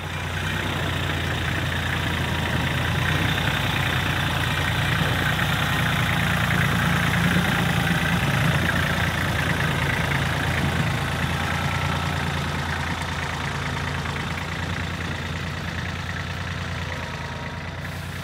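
A tractor engine idles steadily up close, a continuous low rumble with an even drone that barely changes throughout.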